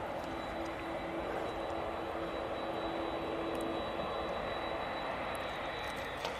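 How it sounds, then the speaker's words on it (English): A Ryanair jet departs East Midlands Airport, a distant, even engine roar with a faint steady whine running through it, no voices. "I think it was Ryanair departing"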